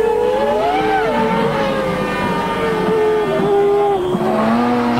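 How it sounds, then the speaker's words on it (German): A 1998 Ferrari Formula 1 race car screams past with a loud, high engine whine that rises and falls through gear changes, with other engine tones layered behind. "Der Ferrari auf dem Weg zum Sieg."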